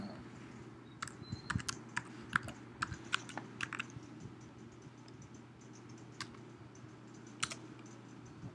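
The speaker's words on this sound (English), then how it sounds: "we're going to type our password" A password being typed on a computer keyboard: faint, irregular key clicks in small clusters over a steady low hum.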